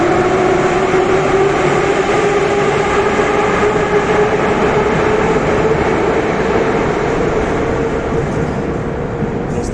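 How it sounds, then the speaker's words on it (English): A loud metro train roars into an underground station platform near Belaruskaya, a steady, rumbling wash of wheel and motor noise that fills the whole stretch without letup. "Feel the wind coming and hear them. Very loud trains."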